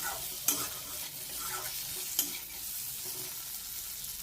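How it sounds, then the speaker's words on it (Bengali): Mixed vegetables for a light fish curry fry uncovered over high flame, a steady close hiss broken by two sharp clacks of stirring near the start and middle. "এবারে দেখুন ঢাকনা খুলে এই সবজিটাকে আরও একটুখানি হাই ফ্লেমে একটু ভেজে নেব"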